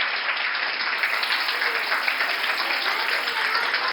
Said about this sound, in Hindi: आप तालियां बजाकर उनको वेलकम करिए